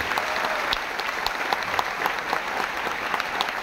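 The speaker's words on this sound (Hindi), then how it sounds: "तो एक बार जोरदार ताली हो जाए सबके अपलाइन के" A crowd at a youth empowerment program gives loud, continuous applause for their mentors, a thick wash of clapping that holds steady throughout with occasional sharper individual claps.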